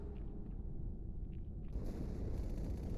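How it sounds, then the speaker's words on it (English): The ship Athens explodes in Halo 2, a deep, steady low rumble from a distance that grows brighter and harsher partway through and holds without any talk. "Die Explosion kam aus dem Innern der Athen, genau wie bei der Malta."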